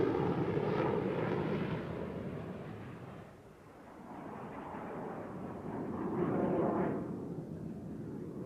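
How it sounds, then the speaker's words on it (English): A Lockheed F-104 Starfighter jet rolls down a runway and lifts off, its engine a loud, broad roar that swells, dips briefly midway, then builds again, with no voices. "he then started down the runway and lifted the 104 into the air for the first"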